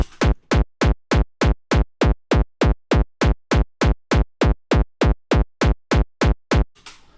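A punchy frenchcore kick drum synthesized in Serum repeats steadily about three times per second, each hit with a sharp bright pitched-up click layer on top of a deep thump, alone.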